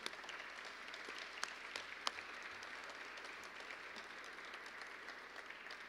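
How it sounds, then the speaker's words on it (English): Faint, distant audience applause at a Prostate Cancer Awareness Day event, a soft continuous patter of clapping with a couple of sharper claps, no talking over it. "Let's give them a round of applause."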